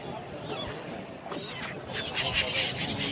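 Birds call near a boat at the Prayagraj Sangam as they gather for thrown snack food, a busy scatter of honking, squawking cries rising over water and engine noise, with people talking nearby.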